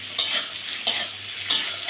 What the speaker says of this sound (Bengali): এই নাড়ানাড়ি করে নিচ্ছি।